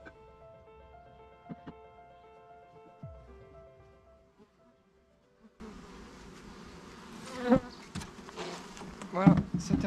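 A honeybee swarm buzzes around a trap hive. After a quiet start with faint background sounds, a dense, close buzzing rises midway and swells loudly with many overlapping insect wings.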